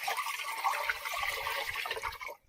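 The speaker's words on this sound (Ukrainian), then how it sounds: "Тепер будемо тільки виливати препарат." Liquid Brunka fungicide preparation pours into a garden sprayer already holding water, a steady gurgling stream at close range that runs for about two seconds, then stops.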